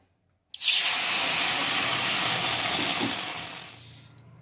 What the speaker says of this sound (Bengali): এবার এই ডালটাকে আমি ধুয়ে নেবো